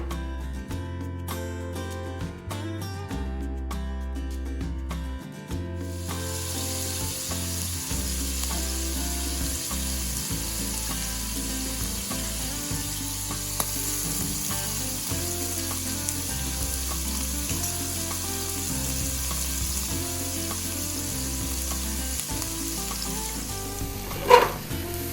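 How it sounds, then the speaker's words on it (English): Prawns getting a quick fry in a pan for coconut curry prawn, giving a continuous bright sizzle that runs for over twenty seconds, with music playing underneath and a short clatter near the end. "What we've got to do is just fry off the prawns."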